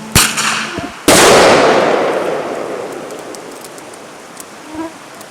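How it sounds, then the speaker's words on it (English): A bear banger goes off in the Arctic wilderness: a small pop as it launches, then a loud sharp explosive crack about a second later that echoes and decays slowly across open country. "it's just like a loud explosive, and hopefully will scare it"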